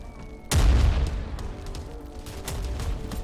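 Airstrike bombs explode in the video game CROWZ with a sudden deep boom that rolls into rumbling debris and scattered cracks, loud and close, followed by a lower continuing rumble, with no voices.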